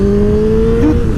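A cruiser motorcycle engine pulls hard under acceleration, a loud, steady close-up drone with a rising tone and a shift near the end, no talk.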